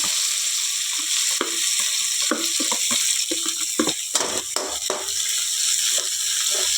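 Chopped onion and coriander leaves fry in a pan with cumin, giving a close, busy sizzle with stirring clatter and some watery hiss, no voices.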